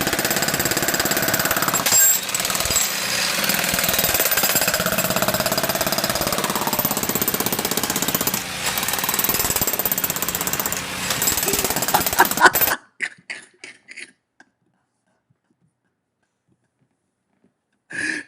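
A loud jackhammer sound effect rattles steadily for about thirteen seconds, then cuts off abruptly into near silence with a few faint sounds after it.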